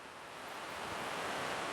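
Quiet, steady rushing of flowing water, a soft continuous hiss with no other sounds.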